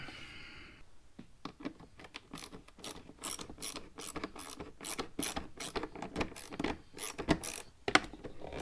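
A ratchet tightens the clamps on an air filter intake pipe of a Ford Focus ST, with rapid, close clicking strokes repeated in quick bursts.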